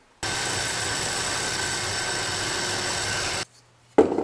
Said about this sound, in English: this Forstner bit will help me recess both the bolt head and the washer.